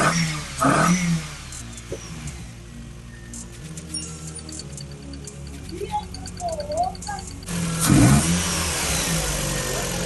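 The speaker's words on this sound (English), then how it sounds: "We just started up the car and it sounds quite smooth." A Volkswagen Golf Mk1 engine idles steadily and smoothly with a low, even hum just after start-up following a timing belt replacement, with a couple of louder bumps and clicks nearby.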